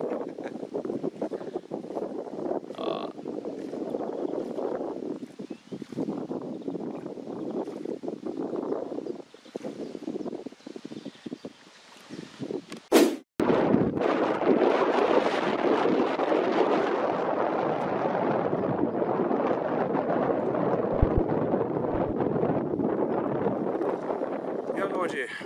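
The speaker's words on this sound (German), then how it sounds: "Aber der Wind ist so heftig hier" Strong wind buffets the microphone while spinning for pike on the Treene river in Schleswig-Holstein, a steady loud roar under intermittent speech that briefly drops out midway before resuming.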